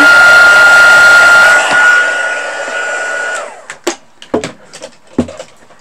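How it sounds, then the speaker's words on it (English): A heat gun heating embossed flowers on a card blows loudly and steadily, then switches off and is followed by several sharp handling clicks and knocks nearby. "and then I'll just use my heat gun to heat them up"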